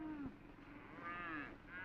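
Cattle lowing in a stockyard, a few overlapping moos rising and falling, moderately distant and faint over a dull background murmur.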